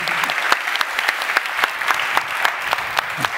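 An audience at a live factory-of-the-future conference claps for two women presenters, scattered sharp individual claps standing out from a moderate, continuous round of applause.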